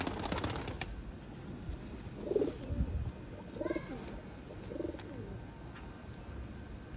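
Pigeons of an old bloodline cooing softly in a few separate low, rolling bursts, faint against steady background noise with occasional higher chirps.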